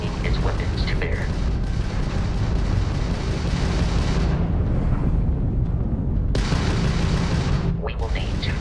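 Weapons fire from an enemy Crimson Fleet ship during ship combat in Starfield, heard as a dense, continuous roar of booming blasts and rumbling explosions that stays loud throughout and briefly thins out midway.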